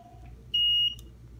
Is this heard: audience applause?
no